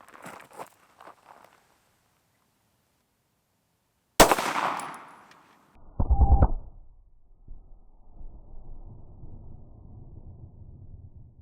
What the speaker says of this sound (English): So first, we're gonna shoot the 147 grain Gold Dot and see how it does through our leather.